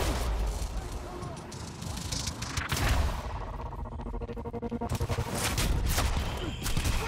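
Enemy gunfire in the Quantum Break video game, with dense bursts of shots and rattling fire that ebb and surge over the whole stretch, loud and close, mixed with game effects.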